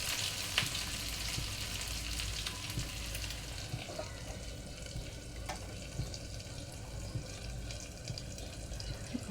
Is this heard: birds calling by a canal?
no